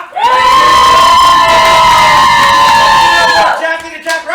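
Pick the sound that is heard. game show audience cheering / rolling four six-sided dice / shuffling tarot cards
game show audience cheering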